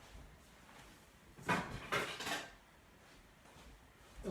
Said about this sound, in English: Let me get a cutting board right quick.